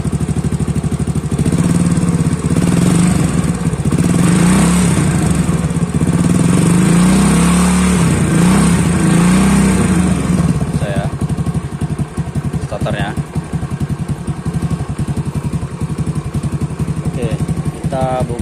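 A vehicle engine cranked on its electric starter during a battery test, turning over and catching into a steady running note that continues loudly for most of the stretch, with a person talking over it.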